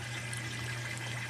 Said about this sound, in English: most of the noise is from that 2-inch drain